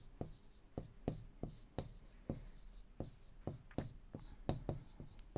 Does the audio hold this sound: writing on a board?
yes